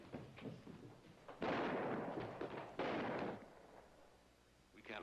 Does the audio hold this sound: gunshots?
yes